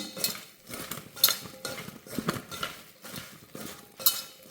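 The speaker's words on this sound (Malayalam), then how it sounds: "കുറച്ച് ഉപ്പ്, കുറച്ച് മഞ്ഞൾപ്പൊടി ചേർത്ത് നന്നായി ഇളക്കിയെടുക്കുകയാണ്" Soya chunks are mixed with salt and turmeric in a bowl, giving repeated close scraping, stirring strokes with light clinks of a spoon against the dish in an uneven rhythm.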